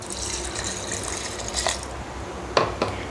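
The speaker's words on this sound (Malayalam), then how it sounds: "അപ്പോൾ വെള്ളം കൂടെ ഒഴിച്ചു കൊടുക്കാം" Water pours into soaked rice and coconut being readied for grinding into neer dosa batter, a soft continuous trickle followed by a couple of sharper splashes near the end.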